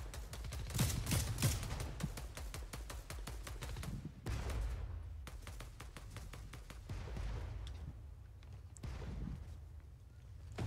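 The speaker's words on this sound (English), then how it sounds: "I heard a little bit of gunfire up there" Rapid volleys of gunfire in a Fortnite match crackle in long bursts with short pauses, fairly distant and moderately loud, with faint talk barely present.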